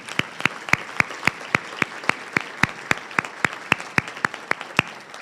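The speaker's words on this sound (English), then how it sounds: "please stand for a round of applause" Applause at a school district event: even, regularly spaced claps ring out one after another at a brisk, steady rhythm, fairly close and distinct.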